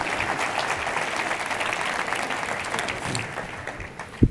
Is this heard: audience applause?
yes